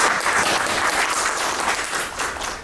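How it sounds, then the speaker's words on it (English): Crowd applause at a Bitcoin merchants meetup, a loud, dense, continuous patter of many hands clapping that holds steady and tapers slightly at the end. "let's give them a round of applause"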